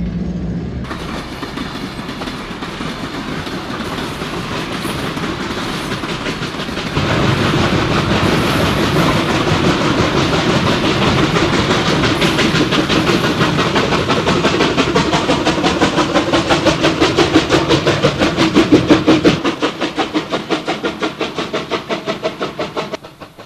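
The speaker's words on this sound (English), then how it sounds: "The train gets underway. Helpers are shoving the freight up grade." A heavy B&O steam freight train climbs the Sand Patch grade, pushed by helper locomotives, rumbling and laboring steadily with rhythmic clanking of cars, loud and close, the chugging growing louder before easing off near the end.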